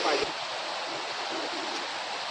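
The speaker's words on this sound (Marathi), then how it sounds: "डायरेक्ट आता आम्ही धुवायलाच घेतो गाडी" Water sprays over a car being washed in a Konkan village, a steady, close, loud rushing hiss that runs unbroken throughout.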